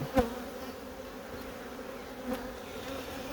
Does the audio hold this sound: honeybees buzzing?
yes